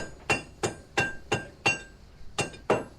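A hammer strikes metal on an ancient anvil in a steady, ringing rhythm, seven sharp metallic clangs about a third of a second apart, close and clear with no voices.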